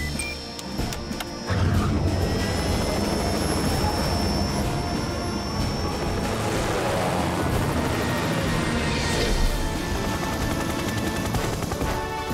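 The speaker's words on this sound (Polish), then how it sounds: "to kto po niego poleci helikopterem?" A cartoon helicopter in a Fireman Sam rescue scene roars with a dense, loud, continuous rotor and engine clatter that starts abruptly and holds steady throughout.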